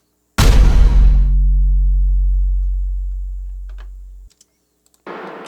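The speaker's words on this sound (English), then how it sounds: "Just with the bass drop." Bass drop in an electronic music mix: a sharp burst hits, then a deep sub-bass boom sustains and fades over about four seconds before cutting off, followed by a brief clipped sound near the end.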